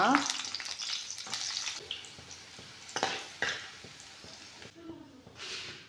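Garlic and other ingredients fry in a pan for garlic chutney, giving a steady crackling sizzle with scraping stir strokes and occasional louder bursts, close and fairly loud, with some talk in the background.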